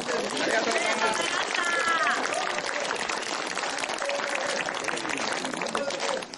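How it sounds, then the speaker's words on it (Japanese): An audience applauds after a live music set at an outdoor Snow Peak festival at the company headquarters. The clapping is dense and sustained for the whole stretch, with voices speaking over it. "大きな拍手をお願いします。"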